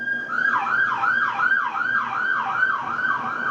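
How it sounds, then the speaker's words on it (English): An ambulance siren passing close by, its wailing tone sweeping up and down in a fast repeating cycle, loud and alone with no talk over it. "That was just an ambulance going by. It was pretty loud, I have to admit."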